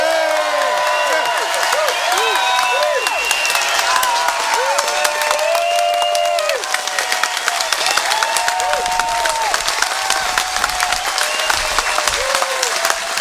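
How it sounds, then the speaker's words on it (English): Festival crowd at Tolpuddle applauding Jeremy Corbyn's speech, a loud, dense, steady wash of clapping sustained throughout with some cheering and whistles mixed in, no speech over it. "let's give Jeremy the big rounds of applause he needs to get that strength to fight the fight for us"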